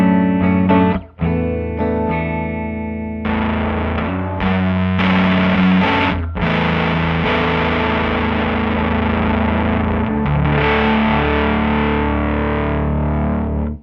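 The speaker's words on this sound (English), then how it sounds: "Gain controls the amount of distortion applied" An electric guitar plays through a Sparks analog harmonic processor pedal set for distortion, giving loud, thick, saturated chords and sustained notes with a few brief breaks, and no voices.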